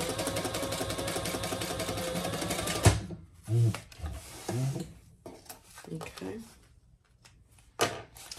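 A sewing machine runs a steady stitching burst on a sling bag pocket, then stops, followed by scattered handling knocks and rustles of fabric while a person talks.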